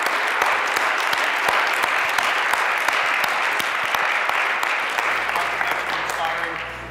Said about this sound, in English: Can we get a round of applause for Peter?